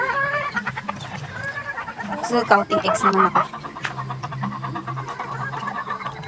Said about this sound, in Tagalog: Uy, kumakakak na yung aking mga manok.